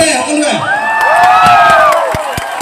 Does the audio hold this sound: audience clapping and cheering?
yes